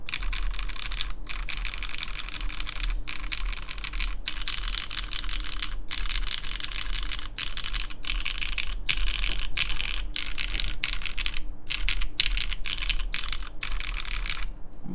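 Typing on a RAE Adamas 65% top-mount mechanical keyboard, a fast, continuous run of crisp close keystrokes with brief pauses between bursts.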